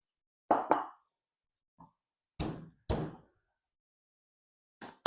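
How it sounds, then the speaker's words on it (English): Garlic cloves bashed on a board, a handful of separate dull thuds and knocks with silence between them, close and fairly quiet. "Just going to get this garlic clove and I'm just going to bash them."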